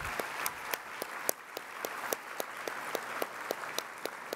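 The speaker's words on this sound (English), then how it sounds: "Let's give another nice round of applause to Chief Kyler." A crowd at a community breakfast gives a round of applause for Chief Kyler, a steady patter of many hands with a few sharper individual claps standing out at a regular pace.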